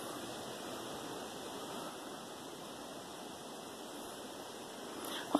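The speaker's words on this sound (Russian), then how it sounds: "Слышите, вода журчит." Steady running water from a marsh spring gurgles and rushes continuously at moderate volume, with no voices, ending on a small knock.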